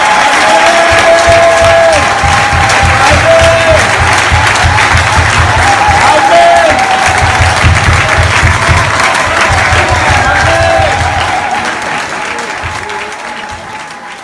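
Loud sustained applause from a church assembly acclaiming the board president, dense clapping with crowd noise and scattered voices, steady for most of the stretch before gradually thinning.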